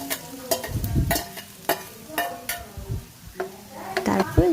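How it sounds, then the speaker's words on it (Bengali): Crab masala with ginger paste and crab roe stirred in a pan: repeated scraping strokes of a spoon against the metal over a soft sizzle, close and steady with irregular rhythm. "তারপর এগুলো একটু মিক্স করছিলাম।"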